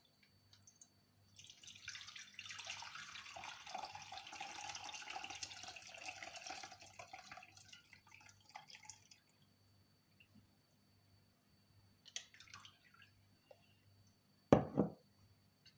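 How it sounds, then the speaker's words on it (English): Liquid from a homemade rocket leaf remedy is strained, pouring in a soft steady trickle for several seconds, then a few quiet drips and a final short knock, close and faint. "Now I'm going to strain."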